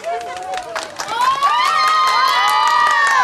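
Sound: audience applause and cheering

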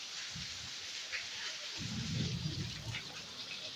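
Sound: heavy rain with thunder

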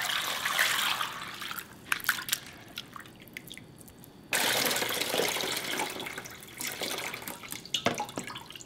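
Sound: pouring soaking water off soybeans

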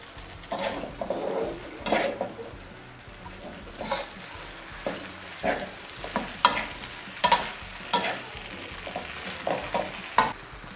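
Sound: stir-frying glass noodles with cabbage and wood ear mushrooms on high heat

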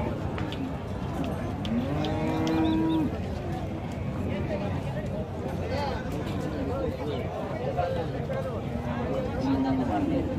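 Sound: cattle (Australian breed cow) mooing at a cattle market

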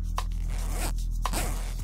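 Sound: jacket zipper being fiddled with

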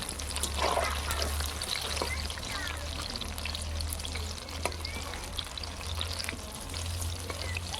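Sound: fritters frying in oil in a pan

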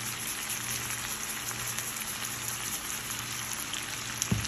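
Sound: vegetables frying in a pan

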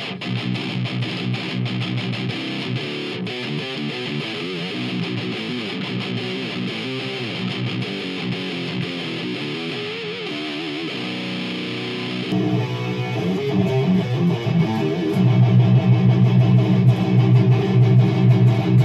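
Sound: electric guitar through Dime D100 amp, Metal Zone, gain cranked

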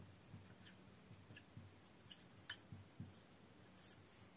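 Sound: writing on a board during a maths lesson

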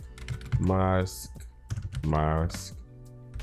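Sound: typing on a computer keyboard

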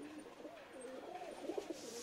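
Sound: Punjabi and Madrasi pigeons cooing

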